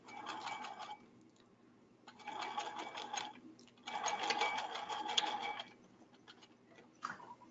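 A sewing machine stitches bias binding on a men's ballet shirt in three short bursts of rapid needle chatter, separated by quiet pauses, with a small click at the end.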